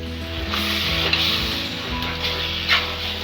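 Fried vegetables for pav bhaji are stirred into masala in a pan, with steady scraping and shuffling from the spoon against the metal over a low background hum. Occasional louder scrapes stand out and no one speaks.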